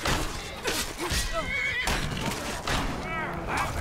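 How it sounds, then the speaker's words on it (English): A horse in Skyrim neighs close and loud, its whinnies recurring over a busy backdrop of clattering hooves and game noise. "Look out, there's a horse behind you."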